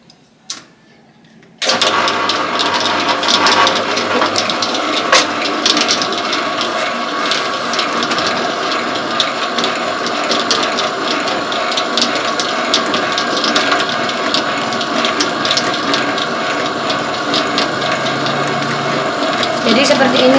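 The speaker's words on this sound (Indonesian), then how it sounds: "Nyalakan mesinnya, langsung mengadon." An electric dough mixer machine starts up and kneads potato donut dough, giving a steady, loud mechanical whir and hum that runs continuously after a quiet start, close to the listener.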